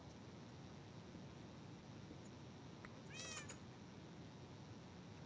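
A cat in the Minecraft video game, played in the FTB Regrowth modpack, gives a single short, clear meow midway through, over a steady low hiss.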